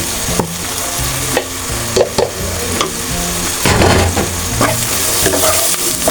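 Spices for khichuri fry with ghee in a pan, a loud sustained sizzle punctuated by regular knocks and scrapes of a spoon stirring, the hiss swelling briefly midway.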